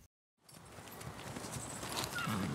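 A horse being ridden in a French TV drama scene, hooves clip-clopping at a steady walk against a continuous, fairly loud outdoor background, with no voices.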